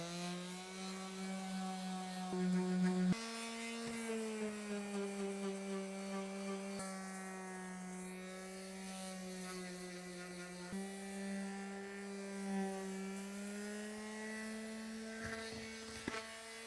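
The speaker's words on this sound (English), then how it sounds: "keep on sanding" A power sander works over a Gheenoe boat hull, giving a steady, close motor drone with a strong buzzing pitch that shifts slightly as pressure changes, with no talking.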